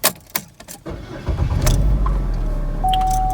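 A GM Chevy car started with a second key: a few key clicks and jangles, then the engine cranks and catches into a steady idle, close and loud, with a faint chime tone near the end.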